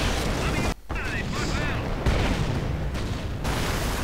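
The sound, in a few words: rockets firing in a video game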